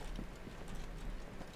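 Horse hooves clop steadily in Assassin's Creed Origins, a soft, even run of muffled hoofbeats heard alone with no talk.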